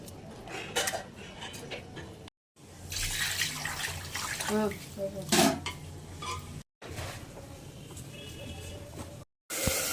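Running water splashes as raw chicken meat is washed, with sloshing and handling noises and a voice talking over it, broken by short silences.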